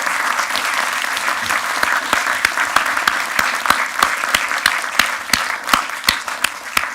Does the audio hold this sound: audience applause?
yes